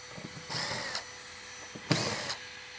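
Two short bursts of a power drill pulling screws from a boat hull, each about half a second, separated by a quiet pause.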